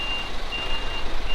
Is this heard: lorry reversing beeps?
yes